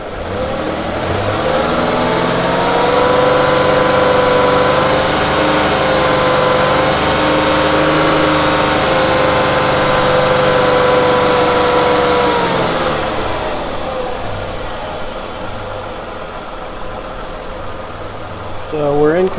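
A Ford Escape with a high-idle fault runs at a steady elevated idle while warming up, loud and close, then its note drops and softens toward the end.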